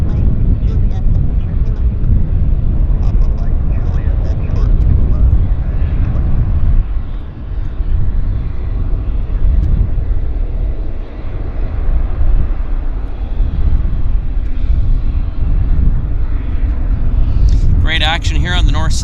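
A United Airlines airliner from San Francisco approaches Vancouver airport, its jet engines making a loud continuous roar that dips briefly and then swells again, with a voice talking over it near the end.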